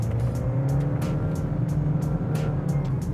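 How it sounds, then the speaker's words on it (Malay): A Honda Accord 1.5 turbo with a CVT gearbox accelerates, giving a steady droning engine and transmission hum from inside the cabin, with faint regular ticking sounds over it. "bunyi bising tu tetap ada pada kotak gear CVT"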